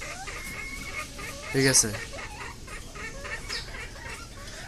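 Chickens on a small farm cluck in the background while someone talks briefly, with one sharper, louder squawk partway through.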